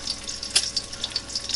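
Vermont maple syrup is poured in a thin stream, a light, continuous trickling splash with small spattering accents, close and fairly clear with no talking.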